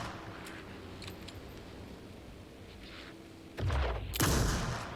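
Gunshots ring out in the video game Alan Wake 2, with two sharp, loud cracks near the end after several seconds of quiet, low ambient hum.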